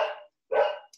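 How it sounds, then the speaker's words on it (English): Dogs barking indoors: two short close barks separated by a brief silence, the second fuller and louder, with a tiny high yip trailing at the end and no voices. "I'm so sorry about my dogs."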